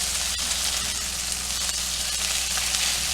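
Chicken tenders sauté in a hot pan, giving a steady, loud, close sizzle with no talk over it.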